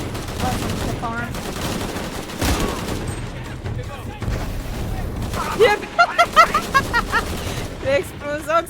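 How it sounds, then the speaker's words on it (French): Bursts of gunfire and an explosion from the video game Shadow of the Tomb Raider, loud rapid volleys running through the stretch with a player talking over them. "L'explosion que ça fait!"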